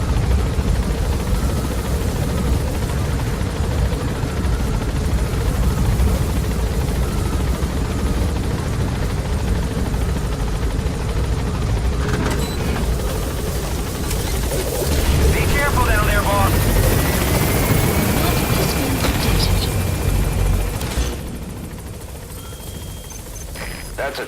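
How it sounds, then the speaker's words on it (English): Enemy gunship helicopter in Metal Gear Solid V: The Phantom Pain, a steady rotor drone running throughout, fairly loud, with game effects and a brief tonal sweep in the latter part before it thins out near the end. "That's a target gunship."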